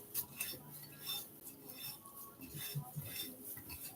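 A spoon scrapes and clinks against a bowl as granola ingredients and oil are stirred together, with a few brief light knocks in a quiet kitchen.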